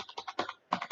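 Rapid clicks of a computer keyboard as a column name is typed into a MySQL query, several keystrokes in two short bursts separated by a brief pause, close and distinct.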